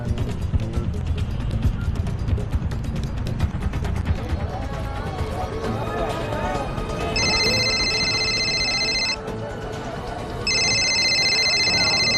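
A telephone rings in bursts of repeated electronic trills from about seven seconds onward, pausing briefly, over a dense bed of continuous talk and background noise in a Hindi news dramatization.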